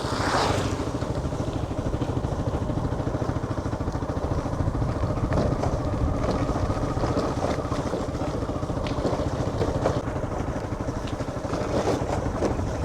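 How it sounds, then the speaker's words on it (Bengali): Motorcycles on a forest road near villages in Jhargram give a loud, steady engine drone with a rough rumble that holds for the whole stretch, with no clear rise or fade. "যা হচ্ছে 2-4টে করে বাইক যাচ্ছে"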